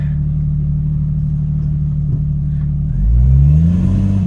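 A 1999 Jeep Cherokee 4.0 engine idles steadily, then revs up loudly near the end as the driver tries to spin the tires in four-wheel drive.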